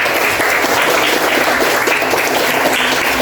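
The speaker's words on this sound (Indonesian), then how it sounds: "Tepuk tangan untuk kita semua." Grade six schoolchildren in a classroom burst into loud, dense, sustained applause that stays steady and close for the whole stretch.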